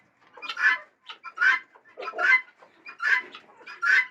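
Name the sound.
chickens clucking in a chicken house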